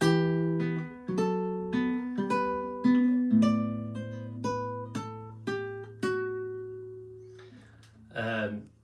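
A nylon-string classical guitar plays two bars of Tárrega's Lágrima from bar 13, a short, gentle phrase of plucked notes over a sustained low bass note, ending with a final strummed chord.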